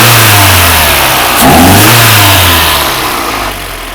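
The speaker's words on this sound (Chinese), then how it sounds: "我们来提速看看" A VW 16V engine with a freshly rebuilt distributor and MSD ignition revs up loudly and close, its steady roar swelling briefly with a rising intake note before easing back toward idle.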